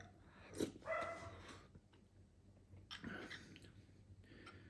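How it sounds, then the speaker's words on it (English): A dog barks outdoors, apparently at the gate, in a few loud, excited bursts of yips and barks heard from inside against a low steady background hum. "Dog is barking crazily outside"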